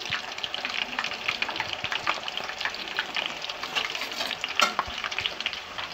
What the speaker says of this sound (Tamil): உருளைக்கிழங்கு போட போகிறோம். நல்லா பொரியலுங்க, நல்லா பொரிஞ்சு நல்லா பொரிஞ்சிக்கிட்டு இருக்கு.